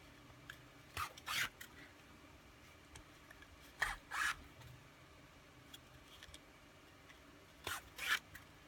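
Leather being hand stitched along a stitch line, thread drawn through in short rasping pulls that come in close pairs with quiet pauses between them.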